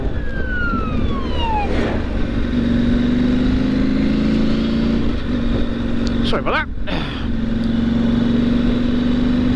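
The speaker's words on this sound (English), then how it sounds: "Fire engine flying through and an ambulance driver slamming on his brakes, lovely." A fire engine siren wails past with a rising and falling tone over steady traffic rumble, then tires screech briefly as an ambulance brakes hard; a voice speaks near the end.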